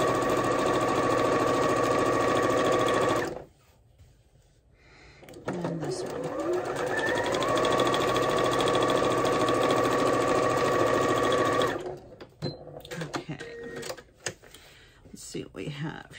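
A sewing machine stitches quilt pieces for a contemporary chevron quilt in two loud, steady runs of mechanical whirring, broken by a short pause and followed by quieter handling noises.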